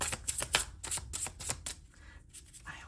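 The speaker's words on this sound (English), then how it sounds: "I like to do it like here for you guys, so you know that I'm shuffling" A deck of tarot cards is shuffled close up: a quick series of crisp riffling bursts, then a quieter pause and a softer final shuffle.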